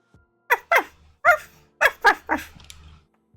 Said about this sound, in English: A cute and lively puppy.